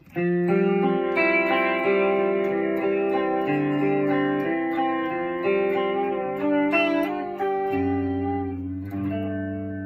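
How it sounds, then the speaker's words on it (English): Sustained electric guitar chords ring out with a wavering vibrato shimmer and a reverb tail, played steadily and loudly without any talking. "And then vibrato reverb."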